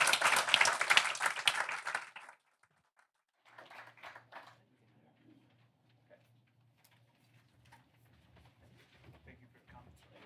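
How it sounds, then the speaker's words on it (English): An audience at a Bipartisan Policy Center event gives a senator a burst of lively applause that lasts about two seconds and stops abruptly. Scattered quieter sounds and faint speech follow. "let's give the Senator a round of applause"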